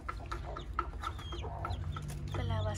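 Hen Canela clucks repeatedly beside her newly hatched chicks, a string of short, close clucks in an uneven rhythm, ending in a longer, drawn-out call.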